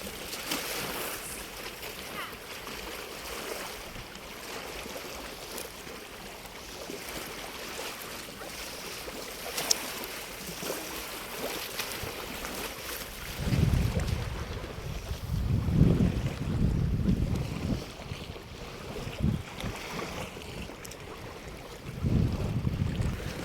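Seaside on a winter day with waves and gusting wind: steady wash of surf and hiss, with heavy low wind buffeting the microphone in bursts later on.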